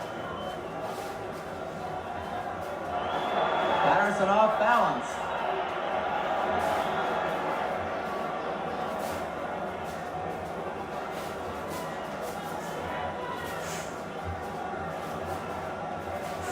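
A crowd fills the arena at a ten-round boxing match at Madison Square Garden, a steady murmur that swells briefly into a louder roar, with a commentator talking over it throughout.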